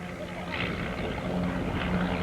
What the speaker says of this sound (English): The Chipmunk you see flying today is flown by John Doe